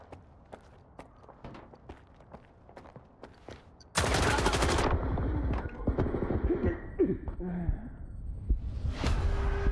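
Gunfire in S.T.A.L.K.E.R. 2: Heart of Chornobyl, a few light footstep-like clicks followed by a sudden loud burst of rapid automatic shots, then scattered sharp cracks trailing off, close and dense.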